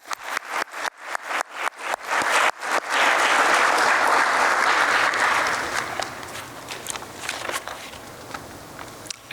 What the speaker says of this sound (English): Please join me in another round of applause for our closing speaker and moderator